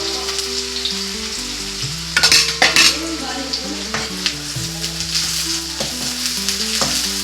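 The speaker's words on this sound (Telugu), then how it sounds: "ఇదిగోనండి పచ్చిమిర్చి వేసేసుకుంటున్నాను, ఉల్లిపాయలు కూడా వేసేసుకుంటున్నాను" Green chilies and onions frying in a pan for pesarattu curry give a close, steady sizzle, with a few sharper clatters of utensil against the pan and scraping stirs throughout.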